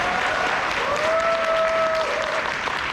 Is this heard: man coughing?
no